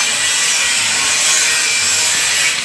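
Nearby construction work, with wood being sawn in a steady, continuous rasping stroke that stays loud and close for the whole stretch, no voices over it.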